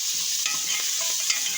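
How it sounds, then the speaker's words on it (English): Onions, fenugreek, tomatoes and chilies stirred in a sizzling frying pan, a steady broadband hiss of frying with soft scraping strokes of the spoon, close and continuous with no voices. "Mix it well, and after that add the cut tomatoes and chilies in it"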